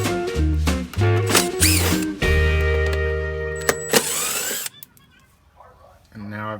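A hand tool with a 7mm socket removes small bolts on a Ford F150 during passenger-side cylinder head removal. It makes several close, loud, whirring mechanical bursts, followed by a brief quiet stretch.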